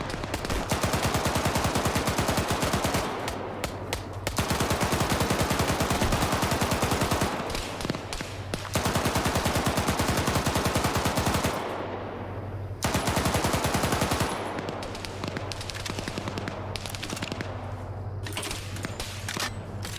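Sustained bursts of machine gun fire in an Arma 3 firefight, loud and continuous with brief pauses between long strings of rapid shots, a heavy Dshk-type gun among them, no talk.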